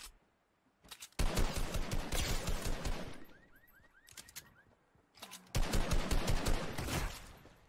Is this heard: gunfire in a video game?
yes